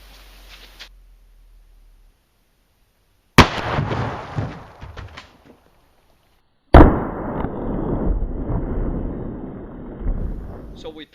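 A shotgun fires a Remington Slugger slug into a row of water jugs outdoors, sharp loud reports each followed by a rushing splash and spray, with a quiet gap between them.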